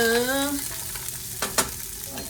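Frozen onion-blend vegetables land in a hot pan with a steady frying sizzle, a few sharp knocks and scrapes of stirring, and a brief tonal whine at the start.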